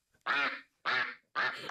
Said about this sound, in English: That's a real duck quack.